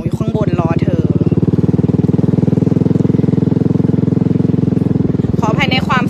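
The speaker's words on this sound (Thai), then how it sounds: "ขออภัยในความเสียงท่อนะคะดังนิดนึง" A loud motorcycle engine drones with a throbbing, rumbling exhaust, while a voice speaks briefly at the start and end.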